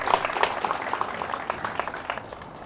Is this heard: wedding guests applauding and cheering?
yes